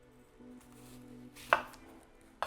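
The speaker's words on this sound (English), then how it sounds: "We're now going to dice the apple." A knife dices an apple on a board, with a couple of crisp, sharp chops standing out against a quiet background.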